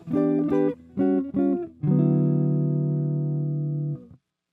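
A mellow Telecaster electric guitar with its tone rolled off plays a few short chords, then lets one warm, rounded chord ring out and slowly fade.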